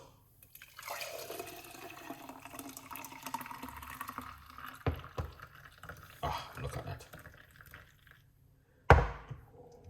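A watermelon, ginger, lime and clove drink pours and gurgles into a container for several seconds, followed by a couple of knocks and a sharp thunk; a voice briefly speaks.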